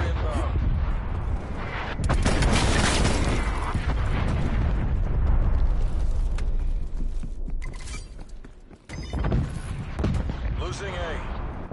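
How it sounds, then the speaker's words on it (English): Artillery strikes pound the map in the Call of Duty Cold War beta, heavy booming explosions with crackling debris rolling almost continuously for over ten seconds, loud and close, with brief voice callouts over the barrage. "Artillery inbound."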